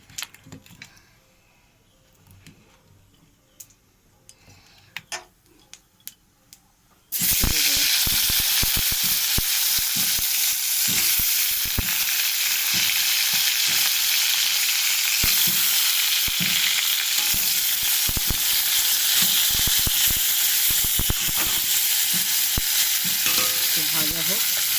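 Raw green banana and potato pieces drop into hot oil after a cumin tempering, bursting into a loud, steady sizzle that continues unbroken, with faint clinks of utensils before the frying starts.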